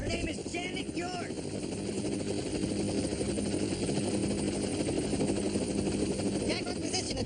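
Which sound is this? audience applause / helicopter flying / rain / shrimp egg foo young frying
helicopter flying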